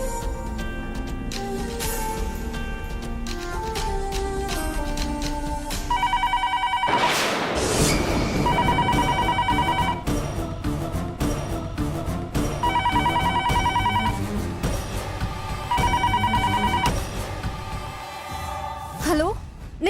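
A telephone rings while another number is being called, a repeating electronic ring in regular bursts layered over a loud dramatic television-serial music bed.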